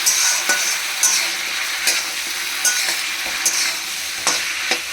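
Steady loud sizzling of food frying in a pan, with scraping stirs recurring every second or so, no voices.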